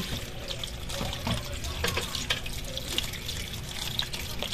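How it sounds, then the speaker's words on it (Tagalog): Tap water runs and splashes steadily as guavas are washed for a fruit salad, close and continuous with occasional drips and sloshes. "Ito po yung hugasan po natin ng maigi."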